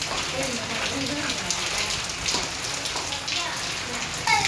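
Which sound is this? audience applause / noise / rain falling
rain falling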